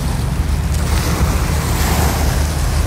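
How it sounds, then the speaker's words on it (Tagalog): Ocean waves roll onto a beach in a continuous loud wash of surf, with heavy wind rumbling against the microphone while walking along the shore. "Alon-alon, oh, alon."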